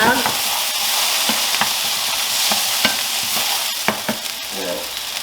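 Tomato paste sizzling and frying in a hot pan while being swirled around, a steady bright hiss with soft scraping strokes recurring every second or so, close and loud with no talking.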